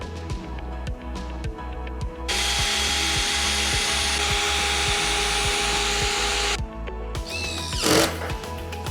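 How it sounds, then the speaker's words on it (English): A power drill driving screws into plywood for a 3D printer table, with a long continuous whine in the middle, bursts of motor noise on either side, and a short sharp spike near the end, loud and close with no talk. "I'll glue it down, screw it in place, and we're good to move on."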